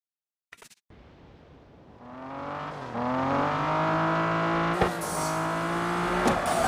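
Race car engine in the Need for Speed No Limits mobile game during a Nitro Rush event, a short click then a rising, climbing whine that builds loud and holds at high pitch as the car accelerates.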